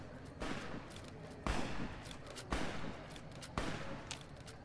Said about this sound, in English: Can we stop shooting?